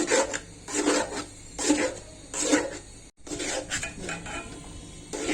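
Bombay halwa is stirred and fried in a pan with rhythmic rasping, scraping strokes of a spoon against the metal, repeating roughly every second, close and moderately loud, with a brief pause partway through and no voices.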